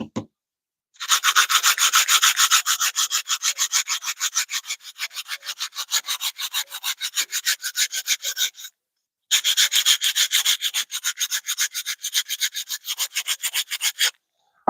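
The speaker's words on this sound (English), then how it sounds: "I'm sanding a spoon that I'm making." Wooden spoon with a twisted handle being sanded by hand, close and crisp, in long runs of fast rhythmic back-and-forth rasping strokes broken by a short pause.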